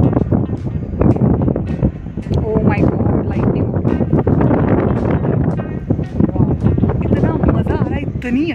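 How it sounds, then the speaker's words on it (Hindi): Wind gusts across a rooftop and buffets the microphone in a loud, continuous rush, while someone talks over it throughout. "इतनी अच्छी हवा चल रही है"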